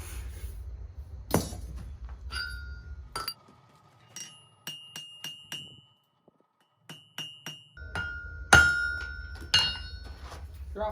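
A hammer strikes a forged tong half to flatten it on an anvil, giving bright metallic clinks that ring on. The blows come in uneven bursts separated by quiet gaps and sound close and fairly loud.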